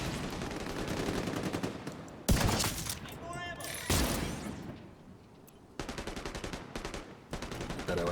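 Gunfire from a portable sniper rifle in the shooter game The Division 2, heard as bursts of rapid, sharp shots separated by brief lulls and echoing reports, loud and close, with no talking.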